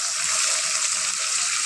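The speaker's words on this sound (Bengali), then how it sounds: "এখন আমরা এর মধ্যে অ্যাড করব সামান্য গরম জল।" A short splash of hot water poured into a cooking pan holding a ginger paste mixture for a Bengali shrimp and taro stolon dish, a brief steady rushing pour with no voices.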